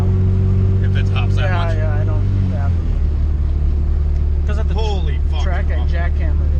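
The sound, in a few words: Honda B-series car accelerating with wheel hop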